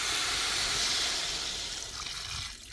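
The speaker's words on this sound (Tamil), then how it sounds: "நல்ல வெள்ளம் கரைஞ்சி வர அளவுக்கு தண்ணி சேர்த்துக்கிறோம்" Water pours steadily into a pan of jaggery, a continuous splashing hiss close by that eases slightly toward the end.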